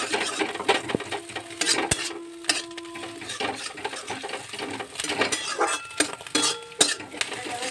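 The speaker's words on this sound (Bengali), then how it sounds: "মাছের ডিম মাখা যেটা ছিল বড়া করার জন্য, সেটা একটু দিয়ে নিয়ে বেশ ভালো করে ভেজে ঝুরো ঝুরো করে নিচ্ছি" Onion, green chili and mashed fish roe frying in a wok, a busy sizzle under repeated scraping and clinking of a metal spatula stirring against the pan, irregular knocks throughout, no talk.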